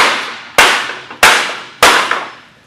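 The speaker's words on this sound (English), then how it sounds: "We'll grab a mallet. We're just going to dislodge this by hitting it sideways." Four sharp, loud mallet blows struck sideways against an AutoFit office chair base to knock it loose, evenly spaced about half a second apart, each ringing briefly before the next hit.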